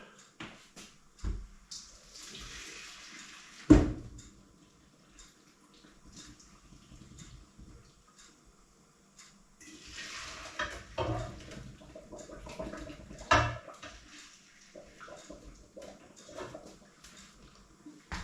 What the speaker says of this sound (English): So I'm taking it out of the water.